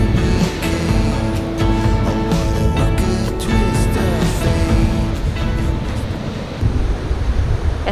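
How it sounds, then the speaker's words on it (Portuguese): Ocean waves roll onto Pitinga beach near Arraial d'Ajuda, Brazil, with a steady, loud wash of surf and wind buffeting the microphone throughout, no voices. "a gente parou um pouquinho aqui numa sombrinha na praia de Pitinga para curtir um pouquinho o mar"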